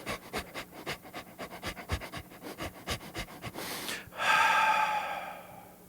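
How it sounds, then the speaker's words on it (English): A yoga class group pants rapidly through their noses in a quick rhythmic series of sharp breaths, finished by one long, loud exhale. "I would like for you to pant through your nose."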